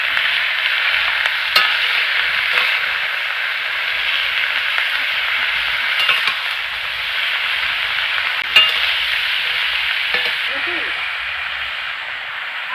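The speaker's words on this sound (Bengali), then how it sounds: "এখানে ডাঁটাগুলো আমি দিয়ে দিচ্ছি।" Vegetable stems frying in a pan for a Bengali fish curry, a steady close hiss of sizzling with occasional scraping stirs and utensil knocks, continuous throughout.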